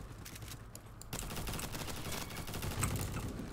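Rapid automatic fire from an M4A1 rifle in the Roblox shooter Bad Business, a dense continuous stream of shots that grows slightly louder after the first second, with no talking.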